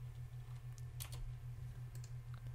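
Quiet typing on a computer keyboard during a Minecraft Feed the Beast session, a few soft, scattered key clicks over a low steady hum.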